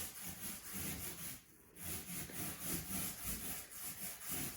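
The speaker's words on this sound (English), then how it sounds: "you want to get some of the paint rolled on the wall first, and then you're going to blend it in just like that" Paint roller working paint across an interior wall, a steady rhythmic rasping roll repeated in close strokes with a brief pause partway through.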